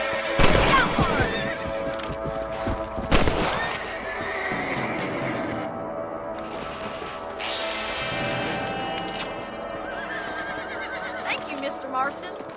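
Horse neighing and whinnying in the Western video game Red Dead Redemption, with loud bursts over clopping hooves, a couple of sharp gunshots and game music, while voices talk in the background.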